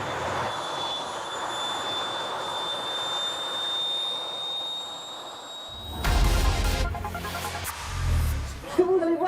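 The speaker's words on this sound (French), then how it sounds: "La voiture fait le bruit d'un avion sur la piste," Jet-powered car sounding like an airplane on a runway before takeoff, giving a loud sustained roar with a high whine, then swelling heavier and rougher rumbles toward the end.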